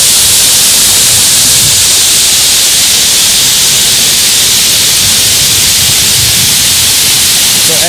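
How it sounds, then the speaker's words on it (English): Waterfall at Diana's Baths in New Hampshire's White Mountains, a loud, dense, unbroken roar of rushing water heard up close, steady throughout with no voices standing out. "Especially this waterfall now."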